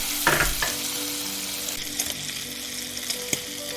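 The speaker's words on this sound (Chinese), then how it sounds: "平底锅中加入2茶匙左右的橄榄油，中小火慢煎，让香味醇厚的培根油脂慢慢的融入橄榄油中" Bacon slowly fries over medium-low heat in a little olive oil in a flat pan, giving a continuous close crackling sizzle with a few louder pops and light stirring scrapes, with no voices.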